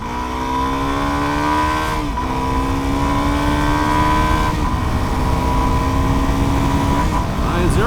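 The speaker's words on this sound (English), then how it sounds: "I'm just gonna accelerate as fast as I'm comfortable with on these tires." Suzuki DR-Z4S 400 motorcycle accelerating hard on a road: a loud, close engine drone climbs steadily in pitch through each gear, dropping briefly at three shift points, with constant wind roar beneath.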